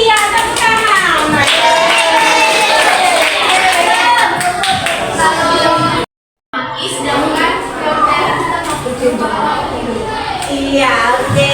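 Seventh-grade pupils in a science classroom clapping their hands in bursts amid lively children's chatter, with an adult voice speaking over them and a brief moment of silence partway through.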